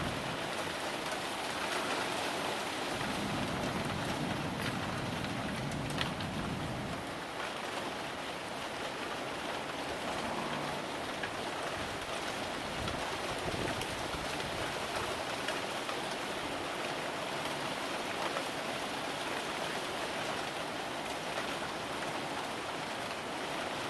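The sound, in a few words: light rain falling outside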